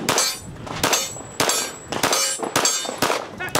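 A Rock Island STK100 striker-fired pistol with aluminum grip fires a string of about seven sharp shots at an outdoor range, each ringing off a steel target with a metallic clang, spaced roughly half a second apart.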